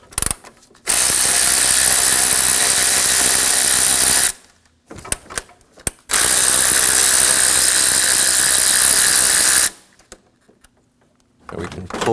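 A ratchet backs out two 10mm bolts at the top of the cooling fan on a 2016-2022 Honda Pilot during radiator replacement, giving two long loud runs of rapid clicking separated by a pause, close up.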